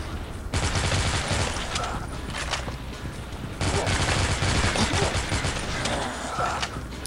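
Rapid gunfire rattles in the Dead Trigger video game, two long dense bursts of loud, close shots with a brief break between them.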